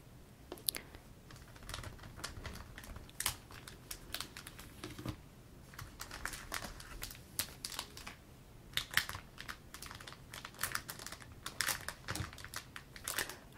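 Plastic deck protector card sleeves being handled up close, giving crisp crinkling, tapping and rustling bursts in an irregular, steady stream with no voices.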